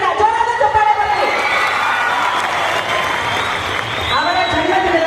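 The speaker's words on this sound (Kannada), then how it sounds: "ಜೋರಾದ ಚಪ್ಪಾಳೆ ಬರಲಿ" Audience at a birthday celebration for a 75-year-old honouree breaks into loud, sustained applause with cheering and whoops, steady for several seconds and easing slightly near the end before swelling again.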